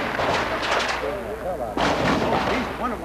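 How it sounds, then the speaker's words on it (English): Heavy gunfire from a 1974 police and FBI shootout with the Symbionese Liberation Army at a house, bursts of loud reports with echoing cracks, voices heard faintly in between. "the massive gunfire exploded a half a block away from that house"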